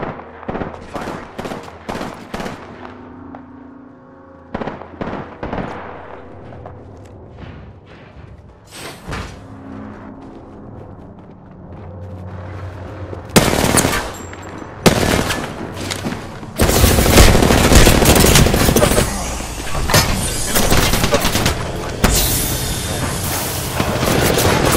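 Apex Legends gunfire: bursts of sharp shots early, then dense rapid automatic fire and booms crowding the second half, loud and close with a busy game backdrop.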